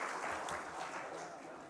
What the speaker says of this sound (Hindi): कृपया जोरदार तालियों के साथ हमारे सभी सम्मानीय अतिथियों का स्वागत करें